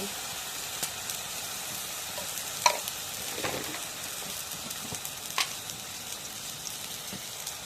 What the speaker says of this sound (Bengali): এখন পেঁয়াজটা একটু তেলের মধ্যে ভাজে নিই